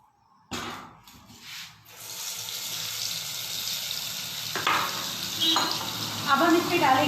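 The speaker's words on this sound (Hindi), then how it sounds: "इसमें हमने डालना है रिफाइंड और थोड़ा सा बटर" Refined oil and a little butter heating in a pan for makhani gravy, with a sharp hiss after a short quiet start settling into a steady close-up sizzle, plus a few clinks and stirring sounds on top.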